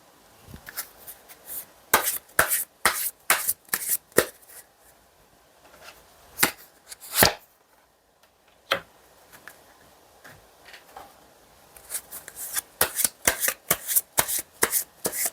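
Tarot time cards and Lenormand cards are shuffled in quick crisp riffling bursts, close and loud, separated by short pauses and scattered single taps, with no voices.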